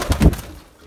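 Racing pigeons kept in a rooftop attic loft give a short, close, low cooing call, two quick pulses that fade within a second.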